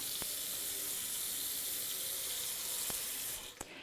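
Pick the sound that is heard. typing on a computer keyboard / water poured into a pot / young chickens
water poured into a pot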